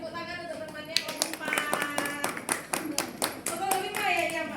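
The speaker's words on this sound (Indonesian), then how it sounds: "beri tepuk tangan untuk temannya kelompok" A school class applauds a student group, with scattered hand claps building into a burst of clapping while children's voices carry over it.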